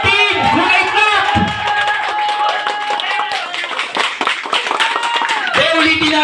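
A live audience claps for a contestant at a dance contest, a scattered, moderate patter of hands beneath a loud host talking into a microphone.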